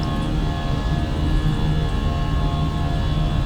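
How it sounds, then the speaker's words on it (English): Simulated aircraft engines spooling up to takeoff power in a flight simulator game, a steady, dense, loud rumbling drone with a constant engine hum that holds level throughout. "I'm going to set takeoff power"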